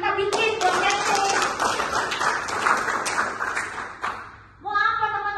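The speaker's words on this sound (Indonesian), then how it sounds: "Makanya ayo hari ini tepuk tangan kita bikin goal setting." A crowd claps together for several seconds, a dense patter of many hands, then fades as a voice begins speaking.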